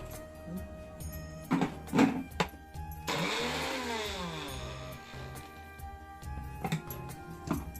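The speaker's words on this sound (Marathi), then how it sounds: "हे वाटण जे आहे ते मी बारीक वाटून घेणार आहे, मिक्सरला लावून घेणार आहे" A mixer grinder whirs steadily for several seconds, grinding coriander into a fine spice paste for pulao in a home kitchen, its pitch rising and falling as it spins, with brief kitchen clatter before and after.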